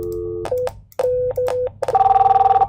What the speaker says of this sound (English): I'm going to dial from this phone, 2000.